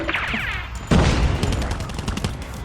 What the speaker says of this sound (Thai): เสียงปืนมันเท่ดีว่ะ